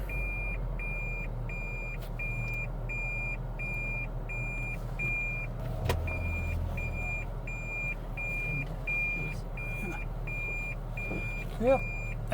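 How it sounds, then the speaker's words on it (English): A car reverses out of a driveway to a steady series of evenly spaced reversing beeps over a low, constant engine hum, with a brief thump midway. "we're gonna go ahead and back the van out, or back the car out"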